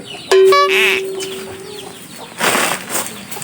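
Chickens clucking close by, with a sharp squawk and a sustained call at the start, followed by scattered clucks and a burst of rustling or wing flapping later on.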